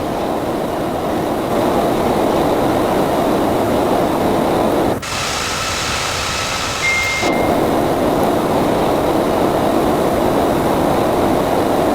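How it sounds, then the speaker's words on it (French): Steady heavy rumble of an Airbus A340-600 cabin in a flight simulator game, shaking through turbulence on an Abidjan to Accra route, a constant loud low roar with a brief brighter hissing burst in the middle. "ça bouge dans l'avion en chemin parce qu'on est dans une zone de turbulence"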